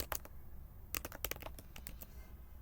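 Code being typed on a computer keyboard while building a web page layout. Close, quiet key clicks come in short, irregular clusters with pauses in between, and no talk.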